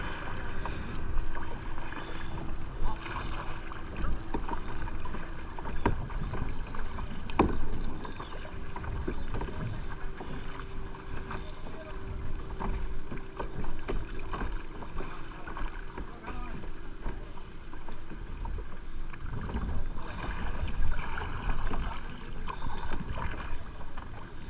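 A boat moves across the sea at Musandam, Oman, with steady engine drone, water wash and wind buffeting the microphone throughout, and a voice occasionally speaking.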